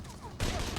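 SKS rifle gunshots in a video game: a short burst of loud, sharp shots erupts after a quieter lead-in, dense and close.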